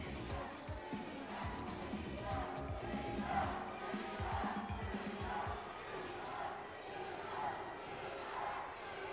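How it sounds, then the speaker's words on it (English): A wrestling crowd at a professional title match yells and chants in a rhythmic roar, distant and steady, with an announcer talking over it. "The crowd is yelling, cheater."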